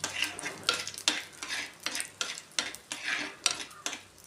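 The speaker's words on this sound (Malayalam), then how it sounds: "ഉണക്കച്ചെമ്മീൻ ആ എണ്ണയിലേക്ക് ഞാൻ ഇട്ട് കൊടുത്തിട്ടുണ്ട് അതിനെ ഒന്ന് റോസ്റ്റാക്കണം" Dried prawns roasting in hot oil in a pan while a utensil stirs them, giving a soft steady sizzle broken by regular scraping strokes about every half second, close up with no talking.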